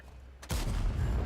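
A loud tank cannon shot booms in a video game after a quiet moment, followed by a sustained rumbling roar and reverberation.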